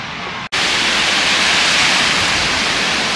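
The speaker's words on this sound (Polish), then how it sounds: "Słychać szum morza, ponieważ znajdujemy się już nad wodą." Broad steady roar of sea waves on a wide, quiet beach on the Baltic coast, continuous wash of surf after a brief dropout near the start, with no voices.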